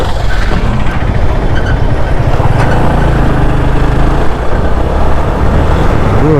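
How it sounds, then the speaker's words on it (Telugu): A very large truck, one of the huge haulers on a dusty granite-quarry road, rumbles past with a loud, continuous low engine roar and road noise, heard close up from a moving ride. "అమ్మాయి ఎంత పెద్ద ట్రక్."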